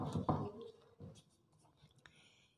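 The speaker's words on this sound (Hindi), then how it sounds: "तो मैं एक दफ़ा फिर ए आपके सामने लिखती हूँ." A pencil writes the letter A on paper, making faint scratchy strokes in a quiet room with a short, soft burst of scraping.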